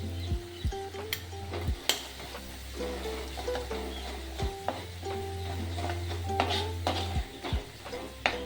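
Turmeric, coriander powder and garam masala frying in a pan for a dry gangaphal vegetable dish, a soft constant sizzle under frequent clinks and scrapes of a spoon stirring against the pot.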